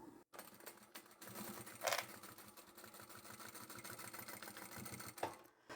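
A sewing machine runs steadily through thick vinyl bag seams, backstitching over bulky layers with a continuous rapid mechanical whir and a couple of brief pauses, close and clear with no talk.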